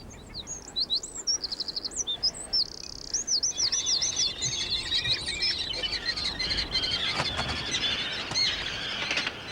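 Terns, the forked-tailed seabirds called sea swallows, call in a busy outdoor chorus: high, sharp, repeated chirps and rasping cries, some in fast rhythmic bursts, overlapping from near and farther birds with no talking.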